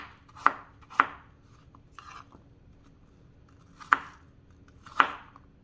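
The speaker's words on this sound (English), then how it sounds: "now I'm going to cut it and get rid of the core and cut it down into small bite-sized pieces" A knife chopping a peeled, cored apple into small bite-sized pieces on a cutting board, four distinct crisp chops spaced irregularly over a few seconds, close and clear with a quiet background.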